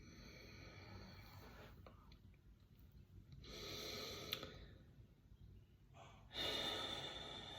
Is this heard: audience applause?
no